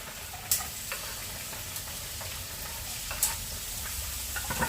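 Oil sizzles steadily as onion fries in a pan, with a few sharp clicks and scrapes of stirring standing out over the constant frying hiss.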